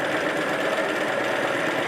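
Sewing machine stitching a fabric basket, a continuous fast mechanical whirr and rattle running steadily and fairly loud without pause.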